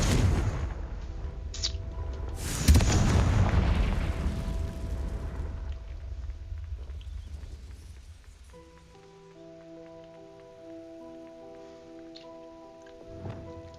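A Confringo fire spell in Hogwarts Legacy bursts with a sharp blast followed by a rumbling, crackling roar that slowly fades, then gives way to sustained tonal game music.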